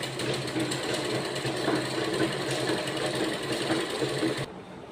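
A sewing machine stitching the collar of a girl's school uniform, a fast, steady mechanical whir and rattle running close and loud, then dropping off abruptly just before the end.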